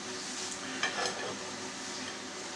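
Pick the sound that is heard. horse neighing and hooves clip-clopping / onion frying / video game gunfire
onion frying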